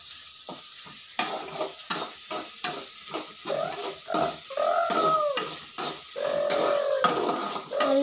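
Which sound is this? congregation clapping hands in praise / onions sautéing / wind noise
onions sautéing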